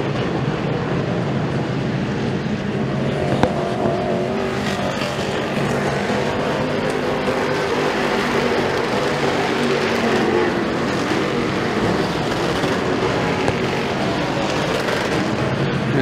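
DIRTcar Sportsman Modified race cars roar around the dirt track at Freedom Motorsports Park, a dense, continuous, loud wall of engine noise from a pack of cars at racing speed.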